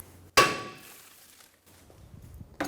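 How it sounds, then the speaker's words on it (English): A hammer strikes the brake rotor of a 2012-2020 Chevrolet Sonic, one sharp metallic clang with a ringing tail that decays over a second, then another hit begins at the end amid quiet shop rustling. "you can take a hammer, give it a bonk"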